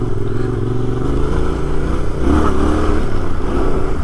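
Vehicle engine running steadily while driving a dirt road to campsites near Ross Moore Lake after a fire, a low continuous drone with rattling and a brief rise in revs midway.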